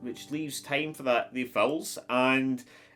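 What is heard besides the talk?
None of the usual background noises is heard.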